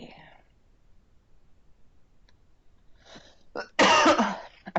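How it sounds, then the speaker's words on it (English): A person tutoring on pediatric care coughs once, loud and close, after soft whispered talk and a couple of quiet breathy sounds. "I don't know why I'm coughing all of a sudden."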